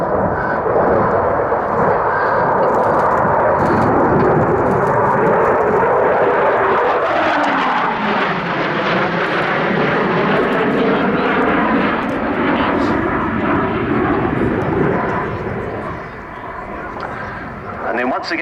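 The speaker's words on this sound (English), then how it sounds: "accelerating the aircraft up to around about 500 miles an hour at 500 feet" An RAF Eurofighter Typhoon jet accelerates low over an airshow crowd, its loud engine roar sweeping continuously with a falling Doppler shift as it passes, and a commentator talking over it.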